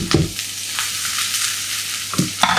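Dried chili paste fries loudly in a pan, a constant bright sizzle broken by scraping knocks of the stirring spoon at the start, middle and end.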